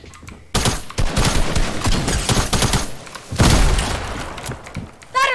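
Dense video game gunfire rattles in rapid automatic bursts with booming impacts, loud and close, continuing almost without pause across the whole stretch.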